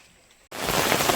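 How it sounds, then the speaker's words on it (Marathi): Near-silence breaks abruptly into a loud, steady wash of falling rain that continues to the end. "आता पाऊस आलाय"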